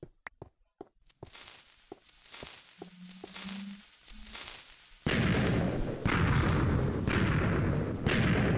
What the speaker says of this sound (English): This times it just right to launch each block of TNT up and away